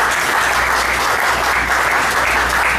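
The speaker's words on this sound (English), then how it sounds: "A round of applause for Afomia." Steady, full applause from a gathered congregation at a church teaching session, continuous clapping that fills the room with a low hum underneath.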